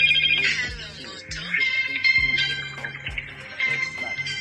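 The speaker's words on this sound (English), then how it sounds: "It has a loud ringtone." Loud electronic ringtone from a Motorola big-button keypad phone made for senior citizens, a bright repeating melodic ring with steady rhythmic pulses playing for several seconds, close and prominent.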